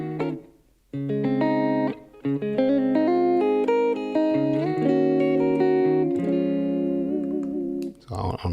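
An electric guitar with a clean tone plays a short run of single notes and chords, each plucked and sustained, clear and close, with brief pauses near the start and end.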